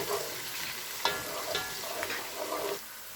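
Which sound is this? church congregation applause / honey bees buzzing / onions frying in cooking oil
onions frying in cooking oil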